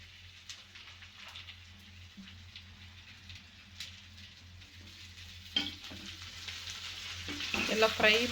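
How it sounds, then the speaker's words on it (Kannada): Bitter gourd and potato pieces fry in oil, giving a low, soft sizzle. The crackle grows louder and busier toward the end as the pieces are stirred and mixed in the pan. No one speaks. "ಎಲ್ಲ ಫ್ರೈ ಮತ್ತಿದು ಎಲ್ಲ ಚೆನ್ನಾಗಿ ಮಿಕ್ಸ್ ಮಾಡಿಕೊಂಡು"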